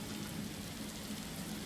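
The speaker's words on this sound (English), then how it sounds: "the rain tapers off" Steady rain falls as a soft, even hiss with a low rumble beneath, continuous and moderately quiet throughout, with no voices, set in a zombie horror roleplaying game scene.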